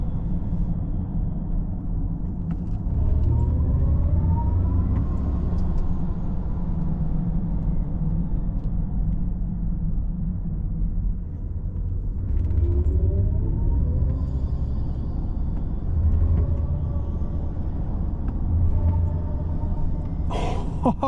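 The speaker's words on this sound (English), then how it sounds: "This is actually the new sound coming with the Maybach EVs, the Aerial Grace." The Aerial Grace drive sound of a 2024 Mercedes-Maybach EQS SUV electric vehicle, a soft synthetic hum rising and falling in pitch in gentle swells, with faint tonal notes under low rumble.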